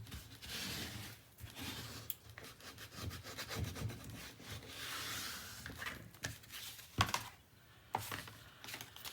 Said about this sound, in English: Give it a good burnish.